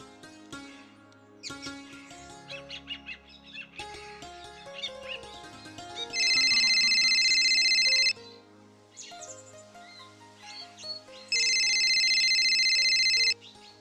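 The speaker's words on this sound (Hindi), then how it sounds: "फोन आ रहा" An electronic phone ringtone plays loudly in two long bursts over a tinkling melodic tune, with quiet gaps between.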